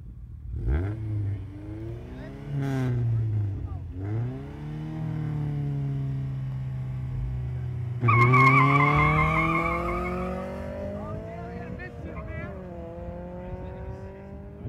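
Street race cars, a Honda hatchback against an Acura, revving hard with rising engine whine through gear changes, a loud launch surge midway and tire noise, heard from close by with crowd murmur.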